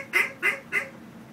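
Three evenly spaced raspy quacking notes from a duck call, imitating a hen mallard's gather-up call, close and loud with short gaps between them.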